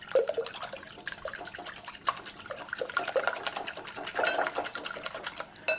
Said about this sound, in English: I'm just going to bust up the yolks a little